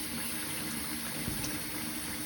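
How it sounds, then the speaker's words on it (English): Cold water from a tap fills a sink for a laundry test, a steady close rushing flow with a brief knock partway through and no talking. "Now that the sink is getting filled"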